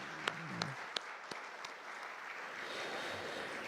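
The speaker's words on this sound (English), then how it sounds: "So please give him a big round of applause." Conference audience claps, a dense, even wash of applause that holds steady throughout, moderately distant and uninterrupted, with a few sharper claps standing out early on.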